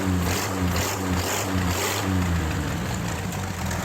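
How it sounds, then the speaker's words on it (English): An old flivver car engine idles steadily as it warms up after starting, a loud close rumble with an even low throb running throughout and no speech. "Got the old flivver fired up here,"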